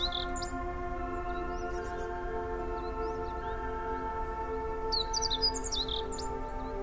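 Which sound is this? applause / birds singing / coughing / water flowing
birds singing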